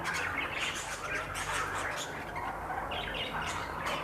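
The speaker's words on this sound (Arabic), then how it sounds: "عصافير عماله تطير وتروح وتيجي" Pet birds in an indoor breeding room chirp and squawk continuously in a dense, busy chorus of overlapping calls, fairly close, with a steady background hum.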